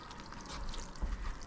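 Water pours from a hose or can onto the outer edges of small garden cells, a soft continuous splashing trickle, quiet and close, with a slightly heavier gush near the end.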